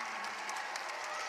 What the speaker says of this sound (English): look at this crowd come alive